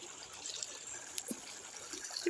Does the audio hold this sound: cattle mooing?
no